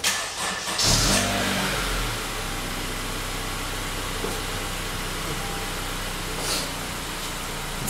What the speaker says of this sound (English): So we're gonna try to start the car now.